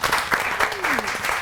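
Studio audience applause on a morning cooking show, short rhythmic bursts of clapping with a voice talking over them, close and moderately loud.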